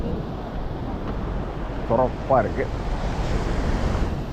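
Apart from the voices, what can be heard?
heavy sea waves on a rough sea while fishing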